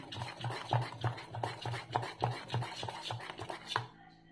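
A spoon beats semolina (rava) batter for dhokla in a bowl, giving steady rhythmic scraping and tapping strokes, roughly three per second, close and fairly soft, ending in quiet.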